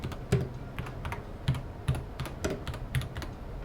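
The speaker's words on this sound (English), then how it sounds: "because maybe you like to type like this" Keys clack in an uneven run on a Varmilo Victory 67 mechanical keyboard set to a deep 4mm activation point, each keystroke a close, crisp thocky hit with short pauses between bursts.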